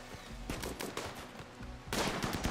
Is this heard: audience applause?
no